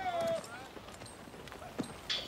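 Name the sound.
horses' hooves clip-clopping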